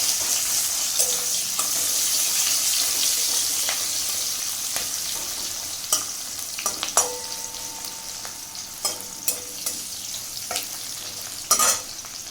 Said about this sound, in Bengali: এরপর আমি কাঁচা পেঁয়াজ ভালো করে লাল লাল করে ভেজে নেব।